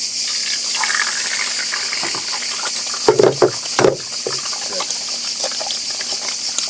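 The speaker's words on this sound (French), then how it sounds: "Donc j'ai mis un filet d'huile. Je vais casser mes 2 œufs." Two eggs cracked into a thin film of hot oil sizzle steadily in a pan, on a cooker running from a Jackery Explorer 3000 V2 power station, with a few sharp taps and cracks midway.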